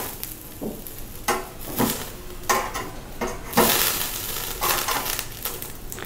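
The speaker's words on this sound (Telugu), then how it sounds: "ఒకసారి ఫ్లిప్ చేస్తున్నాను దీన్ని" Onion pieces brushed with oil being flipped and roasted in a pan, heard as a run of sharp scraping, clattering turns with a low sizzle beneath, several distinct handling bursts spread evenly through the stretch, close and moderately loud.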